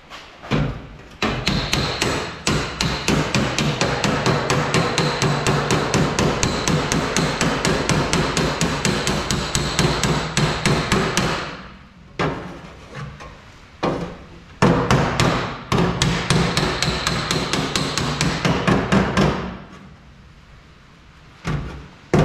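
Rapid, loud hammer blows flatten rusty sheet-metal body panel of a Toyota AE86 Corolla, a fast continuous metallic pounding in close-up with two brief pauses.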